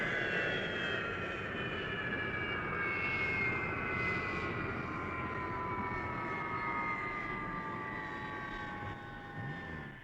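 A fixed-wing aircraft engine drones steadily in flight. A loud, sustained roar carries gradually falling whining tones for about ten seconds, easing slightly at the end.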